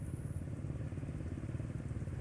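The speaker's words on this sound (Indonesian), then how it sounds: "Suara motor metik Honda itu kebanyakan kasar" A Honda automatic scooter engine idles roughly nearby, a steady, coarse low chugging with a clattery buzz and no pauses.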